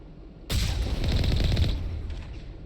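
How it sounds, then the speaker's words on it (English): Sustained burst of gunfire in the Mass Effect video game, erupting suddenly and continuing loud and dense for over a second before tapering off, with no voices. "Who's shooting?"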